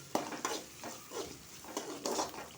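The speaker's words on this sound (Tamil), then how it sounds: "மீடியம் ஃப்ளேமில் வச்சுக்கிட்டு நல்லா கிண்டி விட்டுக்கலாம்." Onions and wheat rava are stirred in a pan over a medium flame, giving soft rhythmic scraping strokes roughly every half second over a faint sizzle, quiet and close, with no speech.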